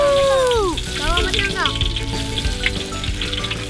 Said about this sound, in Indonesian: Tumis bawang merah, daun bawang, dan tomat